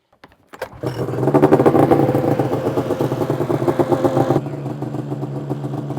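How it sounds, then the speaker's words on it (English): A snowmobile engine, its fuel tank treated with fuel stabilizer, cranks and catches, then runs with a loud, throbbing idle before settling to a slightly quieter, steady rumble near the end. "So we're just going to run the sled a little bit."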